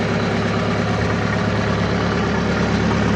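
A tractor engine ploughing a rice paddy runs steadily, a loud continuous low rumble with no change in pace and no voices.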